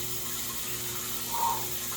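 Warm water spray from a home bidet (Alpha JX) hisses steadily with a brief louder gush near the end, close and continuous, no talking.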